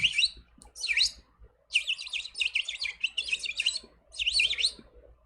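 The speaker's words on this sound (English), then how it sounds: "when he sing, the birds, they start singing too" Birds chirp and sing in a rapid burst, pause, then return with a longer stretch of busy, overlapping tweeting before one last flurry. The calls are clear and fairly close, with no talking.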